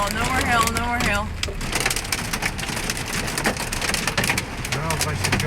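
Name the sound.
hail hitting vehicle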